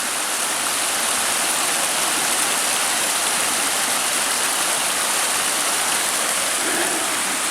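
A creek far below a canal trail gives a steady, dense rush of flowing water, a broad unbroken wash that stays constant throughout with no talking.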